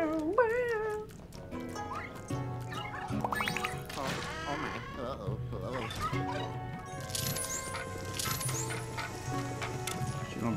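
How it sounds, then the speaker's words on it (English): A cat meows repeatedly amid the busy music and sound effects of the video game Luigi's Mansion 3, the cries sliding up and down over a steady game soundtrack. "Who's that crazy cat?"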